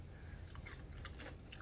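A crunchy meatball made from tofu skin, dipped in sauce, is bitten into with a few faint, close crisp crunches and chews over a low steady background.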